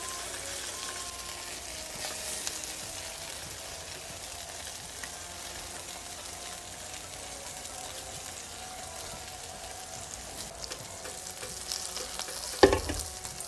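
Something frying in a pan while making matka biryani: a quiet, steady sizzle and stirring that goes on throughout, with a sharp clatter near the end.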